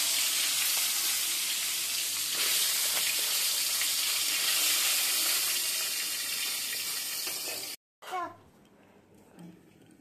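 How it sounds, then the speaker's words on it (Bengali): A bhetki fish head frying in hot oil, loud dense continuous sizzle and spatter for most of the time, then a sudden cut to quieter kitchen background with a few faint knocks. "মাছের মাথাটা ভেজে নেব, তেল বসিয়ে দিয়েছি"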